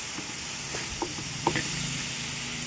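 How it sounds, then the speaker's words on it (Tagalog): Pork steak sautéing in a pan, with a steady sizzle and hiss of frying meat and a few soft clinks of stirring, close and continuous with no talk. "nagisa-gisa na natin ang ating pork steak"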